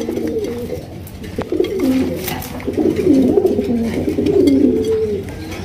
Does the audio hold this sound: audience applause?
no